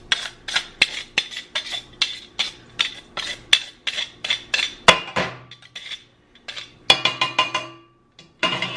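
Drained noodles tossed and shaken in a metal pot make a loud run of repeated clanking, scraping metallic clinks in quick rhythm, with a short pause before another burst of clatter; no speech.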